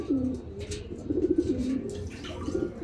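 A racing pigeon coos close by in soft, low, warbling phrases, repeated a few times over quiet background noise.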